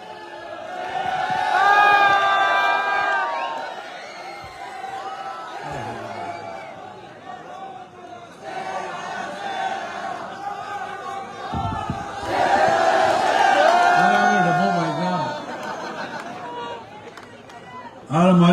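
Crowd at an outdoor election campaign rally in Kuchera, loud bursts of cheering, shouting and clapping in several waves, with voices and a loudspeaker running through the noise.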